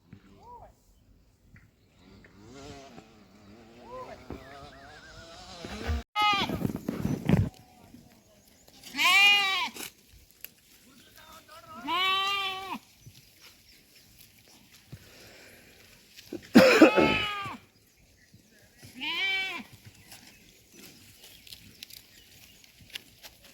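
A flock of sheep being herded outdoors gives several loud, separate bleats spaced a few seconds apart, with quieter stretches between them and people's voices calling nearby.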